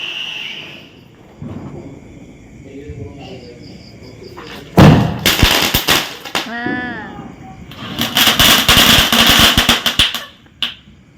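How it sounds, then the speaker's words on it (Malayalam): Firecrackers go off on Vishu eve in two loud, rapid crackling volleys, sharp bangs close by, separated by a brief lull where insects chirp softly. "അങ്ങനെ ഞങ്ങൾ പടക്കം പൊട്ടിക്കാനായിട്ട് ഇരുന്നു"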